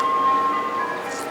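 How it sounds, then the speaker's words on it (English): A nearby ice cream truck plays its steady, tinny jingle, a continuous melody heard clearly in the background throughout. "Shout out to the ice cream truck in the background."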